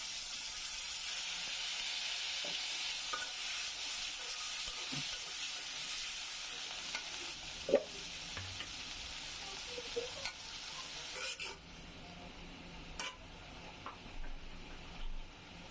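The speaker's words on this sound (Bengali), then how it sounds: "এখন আমি একটু পানি দিচ্ছি" Water poured onto ginger and garlic frying in a pan for a shrimp curry erupts into a loud steamy hiss, continuous and close, easing after several seconds with a few spatula knocks.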